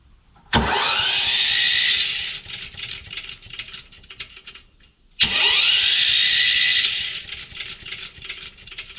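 A small engine with its spark plug just refitted and the choke on is pull-started twice; each attempt bursts into a loud, close run for about two seconds before dying away, with no one speaking.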